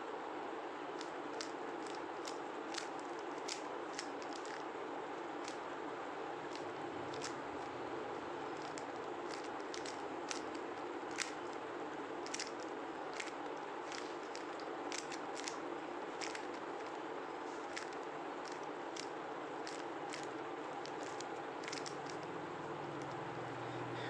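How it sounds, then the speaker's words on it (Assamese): A Rubik's cube being twisted and scrambled gives off a long run of quick, sharp plastic clicks and rattles, faint and fairly close, coming in irregular bursts. "এতিয়া চাওক, মই এইটো মিক্স কৰি দিছোঁ।"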